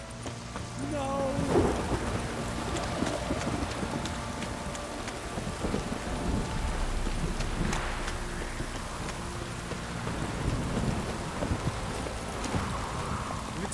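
Steady rain falls with a low rumble of thunder rolling underneath in The Witcher 3: Wild Hunt, continuous and fairly loud, with occasional sharper sounds over the downpour.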